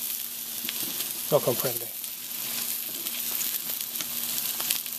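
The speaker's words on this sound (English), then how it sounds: "So how long are we letting this cheese cook for?" Cheese sizzles and bubbles steadily in a pan while cooking for chili con queso, a constant frying hiss with a brief spoken phrase partway through.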